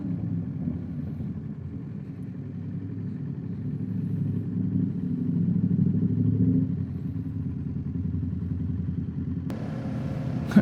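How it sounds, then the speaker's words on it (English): A loud motorbike passing behind on a road near Anglezarke Reservoir, a steady low engine drone that swells and then fades, with a brief burst of wind or rumble at the very end and no talking. "I say a proper bike. A flippin' loud bike."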